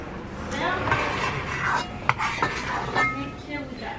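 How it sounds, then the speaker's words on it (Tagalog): A rice cooker pot gets washed in a kitchen sink, with metal and dishes clinking and scraping up close amid steady rubbing and sloshing, a sharp clank standing out midway. "Hugasan ko lang tong ating rice cooker para makapag-steam tayo"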